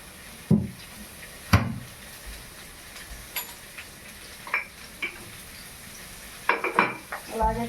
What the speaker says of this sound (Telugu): ఒక టేబుల్ స్పూన్ ఆయిల్ వేసి బాగా వేయించుకోవాలి.